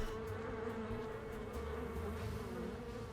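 Bees buzzing steadily in the Nancy Drew mystery game The Phantom of Venice, a constant low insect drone with a faint hum running underneath for the whole stretch.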